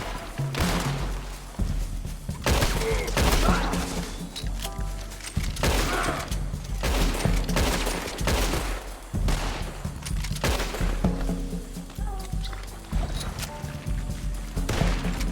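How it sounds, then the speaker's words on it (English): Frantic gunfire in Red Dead Redemption 2 Online: repeated loud shots and scattered volleys crack over a constant rumbling background, with heavy thuds mixed in and almost no talking. "Headshots are best, of course, but sometimes you just need to shoot from the hip."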